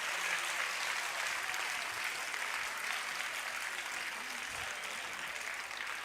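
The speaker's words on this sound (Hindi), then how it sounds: "तो अपने लिए अब ताली बजाइए, जोर से बजाइए" An audience at a ceremony gives sustained, dense applause that stays fairly even throughout, with no speech over it.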